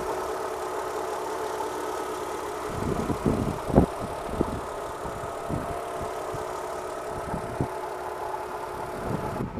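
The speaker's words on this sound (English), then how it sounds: "it has a Mercedes-Benz V6 engine in it" A Mercedes-Benz V6 in a 2005 Chrysler Crossfire Limited coupe idles with the engine bay open, a steady, fairly quiet hum broken by a cluster of soft knocks and clicks midway.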